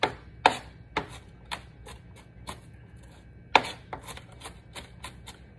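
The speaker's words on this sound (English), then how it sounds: "And then I just chop." Ingredients for chicken noodle soup, such as carrots, are chopped with a knife on a cutting board, giving sharp, separate close knocks at an irregular, unhurried pace in a quiet room.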